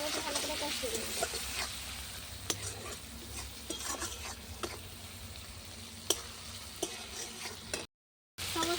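Spices being stir-fried in a pan over a clay stove for a potato, bori and long bean curry, a steady close sizzle with repeated scraping stirs and occasional clinks, running continuously before a brief silent gap.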